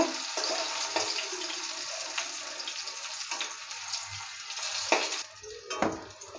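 Potatoes with turmeric frying in oil, a steady close sizzle with scattered crackles and light stirring clatter, no voices.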